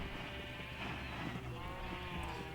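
A Minecraft sheep bleats in a pen in the game's savannah base, a wavering bleat heard against steady background hum, with no talk.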